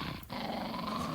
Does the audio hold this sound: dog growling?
yes